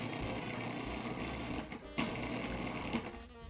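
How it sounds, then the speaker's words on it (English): A food processor grinds graham crackers into fine crumbs with a steady, close motor whir that runs throughout, dipping briefly before carrying on, with no talking. "then I blend them up in the food presser till they're nice and fine"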